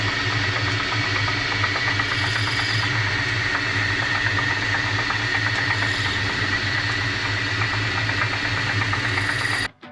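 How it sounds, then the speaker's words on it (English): Metal lathe cutting with a boring tool inside a BSA B25 Starfire headstock bearing hole, a steady mechanical hum and whir with a rhythmic chatter that runs evenly throughout and cuts off abruptly at the end. "Turn the wheel, put the boring tool inside the hole."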